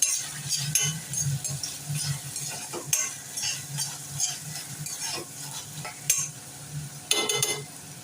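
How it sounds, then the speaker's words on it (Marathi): Red chili sauce and soy sauce sautéed with vegetables for veg manchow soup, soft sizzling in a pan under repeated scraping stirs and occasional sharp clinks of a spoon against metal. "रेड चिली सॉस पुन्हा एकदा परतून घेऊया"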